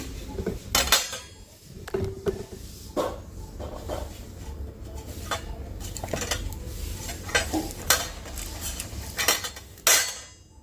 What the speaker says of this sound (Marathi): आता ही भांडे ना घासायला टाकते